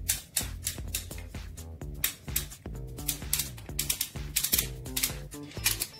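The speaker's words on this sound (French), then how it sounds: "Pour pouvoir faire varier la hauteur de coupe, on va tourner cette molette." Cutting-height dial on a Panasonic ER-SB40 beard trimmer being turned, producing a steady run of crisp, close mechanical clicks and ratcheting ticks, some quick bursts, heard alone.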